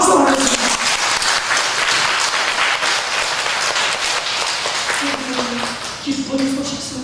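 A church congregation applauding during a Sunday worship service, loud and dense clapping throughout, with a voice speaking over the applause in the latter part.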